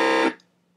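Brief buzzy synth growl bass patch from NI Massive, a harsh sustained tone lasting about a quarter second before cutting off abruptly into near silence.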